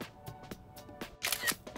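Soft synthetic shutter clicks from an OPPO Reno 8 smartphone camera taking photos, a few faint quick ticks followed by a brighter burst near the end.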